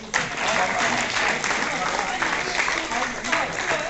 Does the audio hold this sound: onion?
no